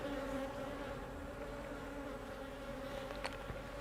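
Honeybees buzz steadily around an open hive during an inspection, a soft continuous drone with faint tonal hum lines and a brief sharper buzz near the end.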